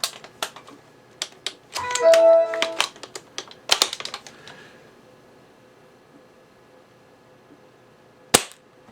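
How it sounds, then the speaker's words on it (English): A UTG Gen5 spring-powered airsoft sniper rifle is fired and handled, with sharp clicks and snaps in quick bursts, a short mechanical rattle and one loud crack near the end, and brief voices in between. "Let's keep firing, put the BBs back in there."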